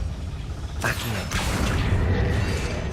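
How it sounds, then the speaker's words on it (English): A lift mechanism moving in Hogwarts Legacy, a deep rumbling mechanical grind with creaks and a heavy boom-like swell, loud and sustained, with no speech over it. "это какой-то лифт"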